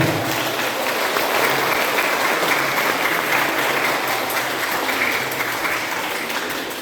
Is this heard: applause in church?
yes